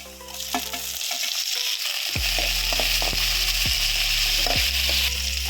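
Chopped medium-size tomato sizzles loudly in hot oil in a pan for chicken mandakki, a steady close-up frying hiss broken by several sharp stirring scrapes.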